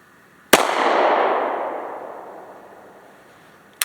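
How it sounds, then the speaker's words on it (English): A single sharp gunshot cracks out nearby, then its echo trails off over about three seconds, and a faint second report is heard right at the end. "Alright, here we go, firing one with the right eye."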